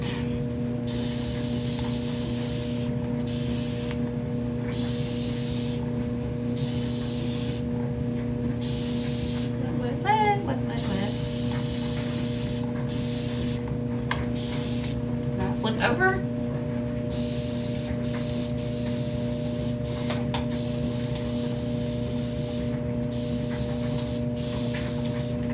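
A spray bottle mists curly hair in rapid bursts of short hissing sprays, repeated over and over against a steady background hum.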